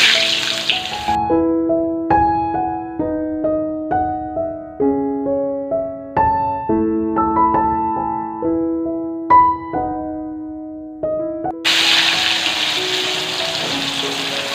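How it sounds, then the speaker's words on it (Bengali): Eggplant pieces hiss and sizzle loudly in hot oil, with bursts of frying at the start and a strong crackle at the end, while gentle plucked music plays softly in between. "তো এই যে দেখো তেলটা গরম হয়ে গেছে বেগুনগুলো ছেড়ে দিলাম"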